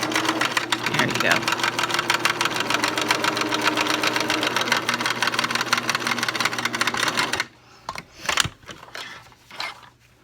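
A sewing machine runs a zigzag stitch over stretched elastic for a handmade face mask casing. Its rapid, steady mechanical whirr lasts about seven seconds before stopping, with speech around it and a few quieter handling sounds afterward.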